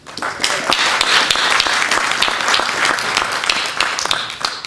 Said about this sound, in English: give yourself a round of applause because you're here to invest in yourself.